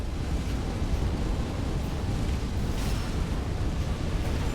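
A Dark Souls 3 boss breathes fire, a loud continuous roaring rush like wind or surf that stays steady and close for several seconds.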